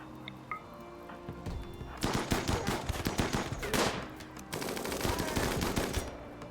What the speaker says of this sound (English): Hit him with the old minigun.